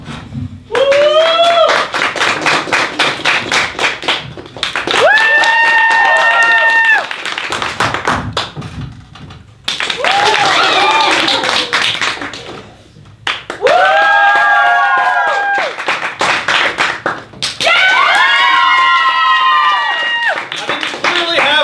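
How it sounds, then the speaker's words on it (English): Audience at a high school poetry slam applauding and cheering in several loud bursts of clapping, whoops and shrill whistles, separated by short pauses, with a host speaking between rounds. "we're going to do this by round of applause. Cheer the loudest for who you think should make finals"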